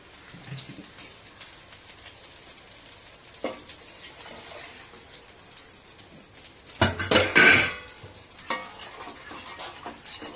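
Water poured into a pot of sautéed curry masala with chilli powder, oil separating, gives a loud rushing splash and sizzle burst midway, preceded and followed by quieter stirring and clinking of a spoon against the pot.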